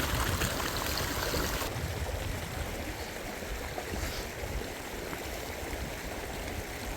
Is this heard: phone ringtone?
no